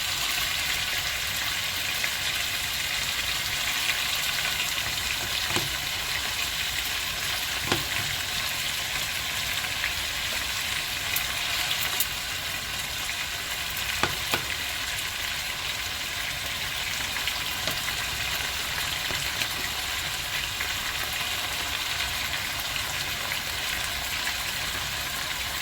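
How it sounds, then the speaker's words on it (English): Oxtail being stirred and fried in homemade browning for a Jamaican oxtail dish: a steady, rain-like sizzle runs throughout, with occasional faint clicks and scrapes. "You want to mix it around so all of it gets this homemade browning"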